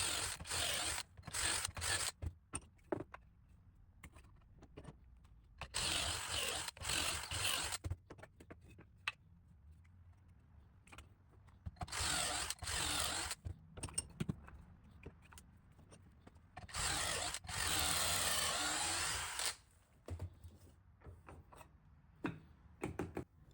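A drill bores pocket holes in a wooden raised garden bed panel in repeated loud bursts of a few seconds each, with quiet handling clicks in between.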